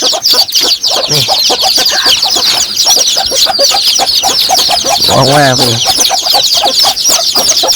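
Chickens cluck steadily and close up at a rice field, with a rooster-like call standing out midway, while someone talks over the birds.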